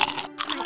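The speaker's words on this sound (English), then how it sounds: "The crunching sound was not from the monster." Cartoon potato chips crunch in a quick, close burst of bites, briefly pausing before the crisp crackling resumes.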